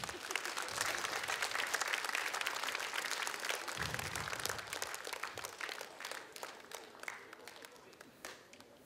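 A crowd claps at a marhaban singing competition final as a group is called to the stage, a fairly quiet, dense applause that thins toward the end into scattered claps, with a voice faintly underneath.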